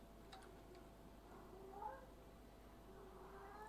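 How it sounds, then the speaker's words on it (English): A pet cat meows and screams in a long drawn-out wail, faint and somewhat distant indoors against a steady background hum, with several rising cries. "I'm very sorry that you can hear my cat."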